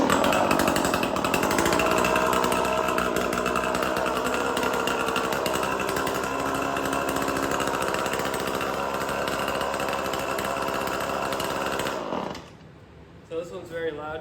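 A small engine, its carburetor just cleared of a blockage, runs loud and steady at high revs for about twelve seconds, then cuts off abruptly, leaving a few faint clatters; a voice is heard over the engine.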